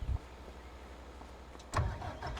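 A tractor engine in the farming game Farming Simulator 25 rumbles low and steady, then a louder burst of engine noise kicks in near the end, with no talk.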